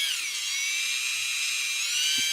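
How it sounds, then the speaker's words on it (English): A high, whining drill effect in a tabletop space-adventure game scene, aimed at a gem. The whine is steady and loud and runs continuously with no voices over it. "I kick off of the wall and I start aiming my drill at the gem."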